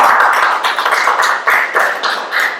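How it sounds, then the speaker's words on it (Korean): A small audience at an education session claps to welcome a lecturer, a sparse, uneven patter of individual hand claps heard close and clear, with no talk. "박수 환영해 주십시오"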